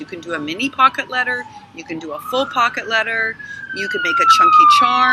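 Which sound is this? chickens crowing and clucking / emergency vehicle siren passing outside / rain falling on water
emergency vehicle siren passing outside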